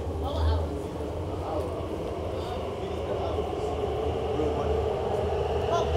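Steady low rumble of a London Elizabeth Line train running on rails, a continuous drone with faint rattling and people talking quietly underneath.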